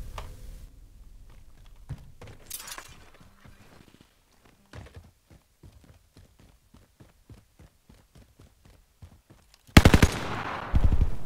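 Rapid bursts of gunfire in a Call of Duty solo match, a long run of evenly spaced shots at moderate level followed by a much louder, denser volley near the end, with no talk.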